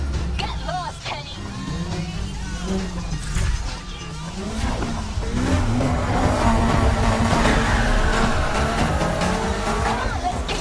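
Street racing cars at night in Need for Speed Heat around Palm City, engines roaring and revving with tires squealing through drifts, loud and continuous under game dialogue and music.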